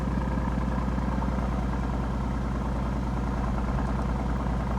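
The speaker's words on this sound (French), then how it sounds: "C'est le moteur AMG, non?" An AMG car engine idles steadily nearby, a constant low rumble with a fine rhythmic pulse and no variation.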